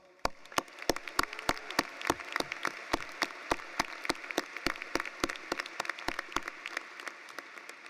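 Sparse applause at a university commencement, individual claps ringing out sharply one after another in an uneven rhythm over faint background clapping, with no voices.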